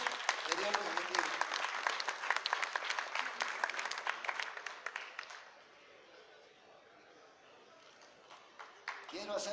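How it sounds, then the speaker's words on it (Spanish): Audience applause at a Mexican music-related foundation event, a dense burst of clapping that fades after about five seconds into quiet room tone, with a faint return at the end. "Aplausos para Alberto y para la Fundación de Hermes"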